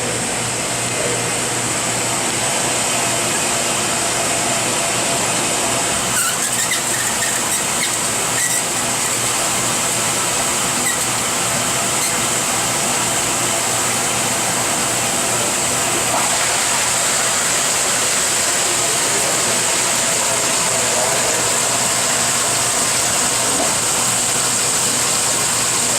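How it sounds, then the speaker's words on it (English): An Air Control FH-45-S-SS-4 wet bench runs a dump rinse cycle, water rushing and draining then refilling as a steady, loud broadband wash under a constant machine hum, with no talking throughout. "I'll start the dump rinse from the start. And then you can see it operational here."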